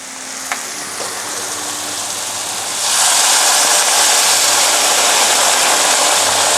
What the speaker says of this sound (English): Then we want to add some water.